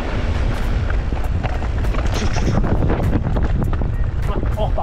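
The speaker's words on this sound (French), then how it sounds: "Oh, la bourrasque devant sur le côté." Wind gusting hard across the microphone during a fast outdoor descent, loud continuous buffeting rumble and roar throughout with rough bursts, and a voice speaking under it.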